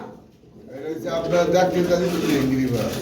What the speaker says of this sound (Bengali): আমরা কিন্তু খুবই চমৎকার স্প্রিং করা কবুতর দেখতে পাচ্ছি